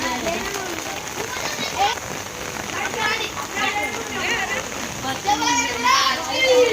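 Rain falls steadily during an outdoor Bathukamma festival celebration, a continuous splashing patter heard under children's voices and lively chatter throughout.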